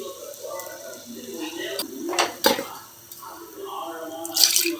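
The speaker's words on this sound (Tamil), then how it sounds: "கொஞ்சம் தண்ணி மட்டும் ஊற்றி" Water poured into eggplant gravy in a cooking pot, heard as soft splashing and dripping trickles with brief louder bursts, close by, over a quiet kitchen background.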